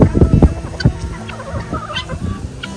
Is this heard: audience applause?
no